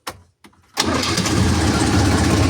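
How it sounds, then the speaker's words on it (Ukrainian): Diesel engine of a DF 244 tractor starting: two short cranking attempts, then the engine catches and settles into a steady, loud, rumbling idle. "Зараз я запущу трактор, двигун."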